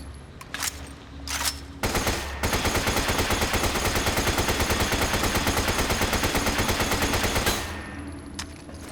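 A submachine gun in Resident Evil 5 fires a long, sustained automatic burst of rapid, evenly spaced shots, loud and dense, preceded by a few separate sharp shots and followed by a fading tail.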